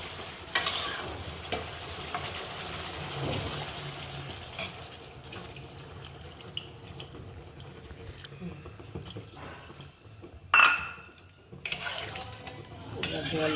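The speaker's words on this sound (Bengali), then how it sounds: "এবার আমি একটু জল দিয়ে দেবো" Vegetables frying in a pan for a Bengali rohu fish curry, with water added so the oil crackles and sizzles in bursts amid stirring and clinks of utensils against the pan, fairly close.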